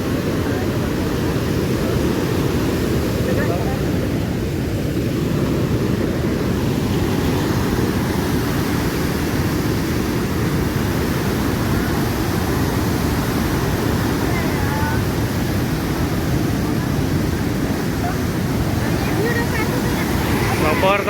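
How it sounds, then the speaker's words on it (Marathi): Loud, constant roar of heavy water pouring and crashing from the spillway of Upper Wardha Dam at Morshi, broad and unbroken throughout, heard up close. "हळूहळू पाणी पडून राहिला आपण डॅमच्या एकदम जवळ आहे"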